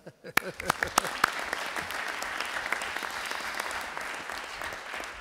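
Applause at a municipal council meeting in a town hall, opening with a few sharp separate claps and settling into moderate, steady clapping from a modest group.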